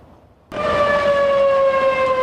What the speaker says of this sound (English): The sirens have just sounded again in Boulder